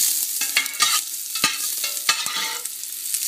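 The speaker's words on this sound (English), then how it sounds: "And the ginger. Just till it's nice and fragrant." Ginger stir-frying in a hot pan for sweet pork with eggs: a steady close sizzle broken by repeated scraping stirs and a few sharp clacks of the utensil against the pan.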